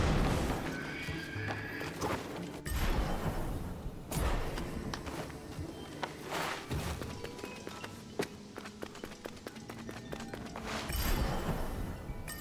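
Horse whinnies and hoofbeats clip-clop amid a busy, steady game soundscape in Prince of Persia: The Lost Crown, with occasional sharp taps and thuds throughout.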